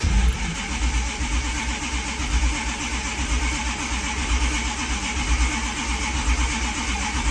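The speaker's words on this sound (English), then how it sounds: "Many commenters over the years have marveled at the sound coming from the Budget 360 under the hood" A Dodge 360 V8 in a garage runs with a steady, loud, low rumble throughout, sounding like it has just caught and is settling into a rough idle with slight surges.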